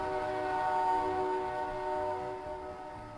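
A locomotive horn in the Roblox game Rails Unlimited sounds as one long, steady, harmonically rich blast, holding at a fairly even loudness before easing off slightly near the end, with no talk over it.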